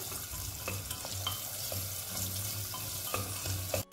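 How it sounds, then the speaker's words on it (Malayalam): Sliced onions sautéing in a pan for a pressure-cooker pulav, a steady close sizzle and fry with occasional spoon scrapes and stirs. "നമുക്ക് ഇനി ഇതിലേക്ക് സ്ലൈസ് ചെയ്ത് വെച്ചേക്കുന്ന സവാള ഇട്ട് കൊടുക്കാം. നന്നായി ഒന്ന് വഴറ്റിയെടുക്കണം."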